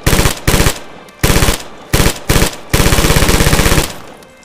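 A PPSh submachine gun in the Red Orchestra video game fires several loud, close bursts of rapid automatic fire, short ones first and then a longer sustained burst, with brief gaps between.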